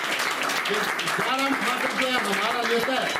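Audience at a political event in Dhanei, Himachal Pradesh, breaking into loud, steady applause and clapping with someone speaking over it through a public address system.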